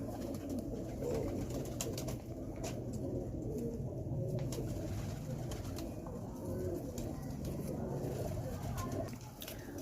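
Pigeons in a breeder's loft in Faisalabad, a Lakha bloodline among them, coo steadily and close by, with someone talking over them throughout.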